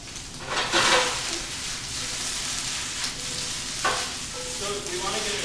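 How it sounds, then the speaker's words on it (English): Vegetables searing over very high heat in a pan, a continuous broad sizzle with occasional louder bursts as they are tossed or stirred, close and steady. "nice char and sear on these veggies. Get the heat really, really high."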